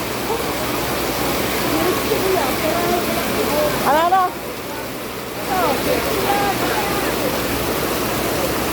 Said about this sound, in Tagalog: Ang lakas-lakas ng ulan